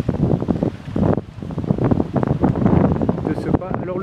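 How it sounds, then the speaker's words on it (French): Strong westerly wind of about 60 km/h blows at the seafront of Port Ouest, Réunion, roaring and buffeting the microphone in loud gusts, with surf faintly beneath. "Ça faisait longtemps qu'il n'avait pas soufflé comme ça, un vent de 60 km/h on va dire"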